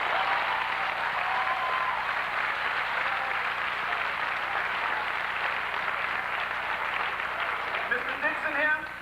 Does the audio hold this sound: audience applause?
yes